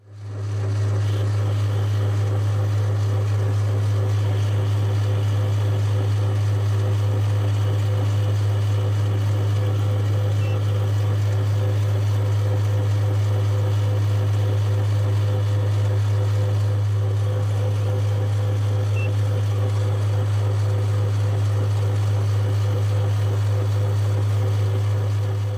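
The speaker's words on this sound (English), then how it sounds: "I'm just boring this out 20 millimetres by 19 mil deep." A metal lathe hums loudly and steadily as a boring bar bores out a metal part 20 millimetres wide and 19 millimetres deep, a continuous low motor drone with a faint cutting hiss above it, with no talk.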